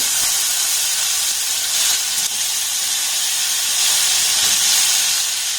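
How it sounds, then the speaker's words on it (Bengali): Paneer pieces frying in hot oil, a loud, dense, continuous hiss and sizzle that stays steady throughout, close up with no talk. "এবার পনিরগুলোকে আমি তেলের মধ্যে দিয়ে দেব।"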